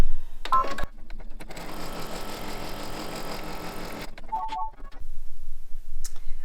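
An embroidery machine stitches a placement line on fabric in the hoop, a steady rapid mechanical whir lasting several seconds, bracketed by beeps and small clicks, close and fairly loud.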